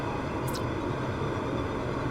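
A tow plane's engine pulling a glider on aerotow over Invermere, BC, a constant droning hum that stays steady and fairly loud, with a faint brief whoosh early on.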